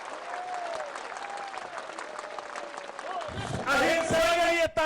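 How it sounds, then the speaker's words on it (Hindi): A large political rally crowd in Kokrajhar applauds, steady dense clapping under a speaker's amplified voice, then swelling louder and fuller with cheering toward the end. "मैं चाहता हूं कि आप खड़े होकर एक बार फिर ताली बजाएं, मेरे लिए नहीं, शांति के लिए।"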